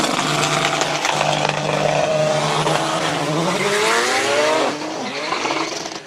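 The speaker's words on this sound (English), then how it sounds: "Ishmael Davids launches the E46 BMW." An E46 BMW race car launches at a hill climb, its engine revving hard through rising gear pulls and tires squealing, loud and close before it fades slightly toward the end.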